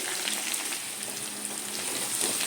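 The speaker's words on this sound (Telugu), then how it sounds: "ఇవన్నీ ఫ్రై అయినా ఇప్పుడు ఇందులో ఆనియన్స్ వేసుకోవాలి అలానే పచ్చిమిర్చి కూడా వేసుకోవాలి" Onions and green chillies fry in a pan with peanuts for uggani, a puffed-rice upma, giving a short, steady, close sizzle with no talking.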